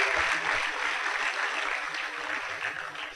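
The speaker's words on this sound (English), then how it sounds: "Please, a round of applause to him." An audience at a business talk applauds a guest speaker, a continuous wash of clapping at moderate level with no voices over it.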